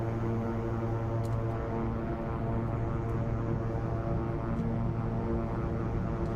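Steady droning turboprop engine hum of a simulated King Air 350 air ambulance during its takeoff roll in X-Plane 12, a constant tonal whine and rumble with no talking.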